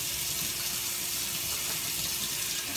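Water runs steadily from a kitchen tap into a sink during cleaning, a continuous close hiss with no talking.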